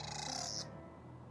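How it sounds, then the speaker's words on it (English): A brief, faint bird call in the video game Memento, a single hooting note that stops abruptly after about half a second over quiet background ambience. "Don't know if it's supposed to be real bird or just noise-makey bird."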